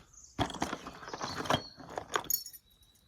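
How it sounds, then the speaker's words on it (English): A bunch of keys jangles and clinks in several bright bursts, up close and fairly loud, while the contents of a bought storage unit are sorted through; no talking. "Some keys."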